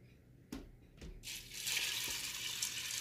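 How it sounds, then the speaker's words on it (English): Water pours steadily into mashed charro beans inside a Ninja Foodi pot, a continuous close splashing rush that builds after a couple of soft clunks and stays loud to the end. "Now I'm going to add my water."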